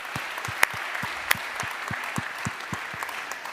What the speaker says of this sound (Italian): anche i nostri soci qui presenti si possano comunque fare un applauso da soli